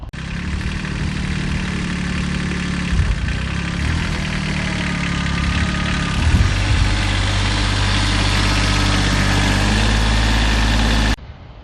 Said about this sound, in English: I'm going to hop on the tractor, run the disc, and see how it actually opens it up